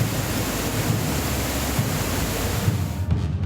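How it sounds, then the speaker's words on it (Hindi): Fast, heavy floodwater rushes through a submerged ashram after torrential monsoon rain, a dense, loud and continuous roar of churning water with no pauses. "पानी का बहाव इतना तेज था कि धार देखकर ही दिल सहम जाए"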